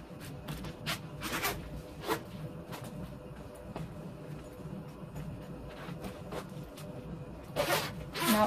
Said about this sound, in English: Now, there are two zippers on these cushions.